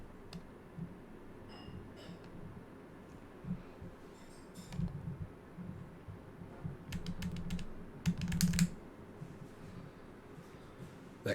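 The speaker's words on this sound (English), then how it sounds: "That clicking is the little honeycomb using the electric trim switch." Small plastic clicks come from the electric trim switch on a Honeycomb flight-sim yoke while flying an A2A Cessna 182 in Prepar3D v5. They are scattered and soft, bunching up near the end, over a faint steady hum.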